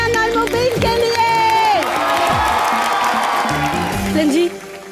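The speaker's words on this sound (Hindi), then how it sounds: "जोरदार तालियां मन्यान और मुबीन के लिए।" A studio audience at a comedy show cheers and applauds loudly after an act. Whoops and clapping continue under background music for about four seconds before stopping abruptly.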